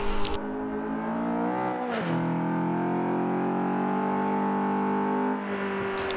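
A race car engine in Forza Motorsport 5 on the Road Atlanta circuit, off the throttle and coasting with a steady drone, then a pitch sweep as the revs climb into a loud, sustained full-throttle whine. No talking over it.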